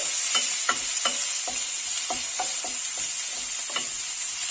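Ingredients for egg bread upma sauté in a pan, with a steady sizzle under a string of repeated spatula stirs and scrapes at an irregular rhythm, close and clear, no talk.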